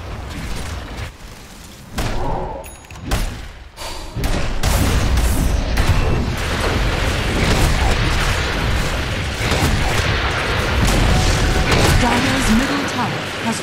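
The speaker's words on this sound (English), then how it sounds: "Dire's middle tower is under attack." Dota 2 battle at the Dire middle tower while it is under attack, with booming explosions and thuds over a dense, continuous roar of combat effects, loud and sustained after a few sparse opening hits.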